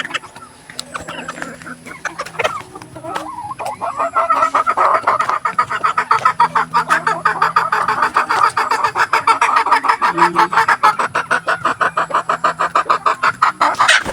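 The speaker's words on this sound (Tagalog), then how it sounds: "Yan mga kumakakak na yan, mangingitlog niya." Hens cackle before laying eggs in a backyard flock kept with roosters, a loud, close, rapid run of repeated clucks that builds and keeps going steadily.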